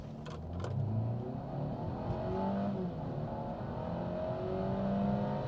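A Mercedes E250 AMG facelift in sport mode, windows closed, accelerates hard with a steady, rising engine note heard from inside the cabin, continuous and fairly loud throughout.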